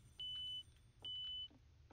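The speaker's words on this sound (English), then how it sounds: "Smoke detector." A smoke detector gives two sharp, high electronic beeps in succession, each about half a second long, clear and fairly close over a faint low hum.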